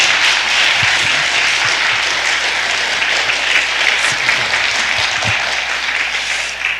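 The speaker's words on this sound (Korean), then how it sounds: "우리 나오실 때 여러분이 큰 박수로 우리 목사님 모시도록 하겠습니다" An audience in a church gathering applauds loudly and steadily to welcome a pastor to the stage, a dense, continuous wash of clapping that begins to fade at the end.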